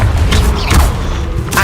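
A Confringo spell explodes in Hogwarts Legacy: a loud, booming blast with rumbling low-end impacts and crackling debris, sustained and close throughout.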